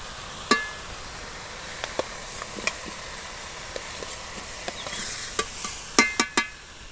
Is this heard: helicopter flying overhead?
no